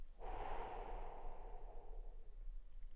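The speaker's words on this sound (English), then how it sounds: "Breathe in through your nose and twice as long exhale through your mouth." One slow, close breath, a soft airy rush that starts abruptly and fades gradually over about two seconds, like a long relaxing exhale through the mouth, in a quiet room.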